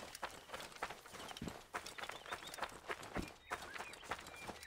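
Rhythmic clip-clop of horse hooves trotting steadily in the video game Assassin's Creed: Origins, close and continuous, with a soft background bed.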